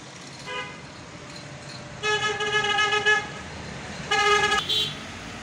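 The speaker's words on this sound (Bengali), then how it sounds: "দেখতে পাচ্ছেন একেবারে ব্যস্ত রাস্তা।" Busy road traffic with car horns honking, a short toot followed by two longer blaring horn blasts over a low background rumble of passing vehicles.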